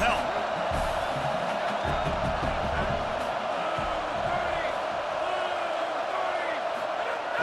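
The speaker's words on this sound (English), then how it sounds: "This crowd rising up, sensing that its defense needs some help." A stadium crowd in EA Sports College Football roars with a steady, dense swell that holds throughout, while a commentator talks over the noise.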